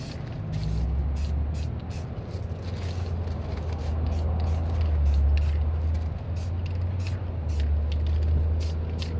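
A spray paint can releases white paint in steady hissing bursts, close and continuous with brief pauses, over a low background rumble.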